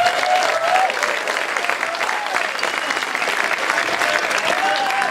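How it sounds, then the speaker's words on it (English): Sustained applause from a concert audience, steady dense clapping throughout with faint crowd murmur. "Round of applause for them."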